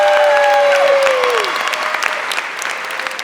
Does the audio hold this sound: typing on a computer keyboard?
no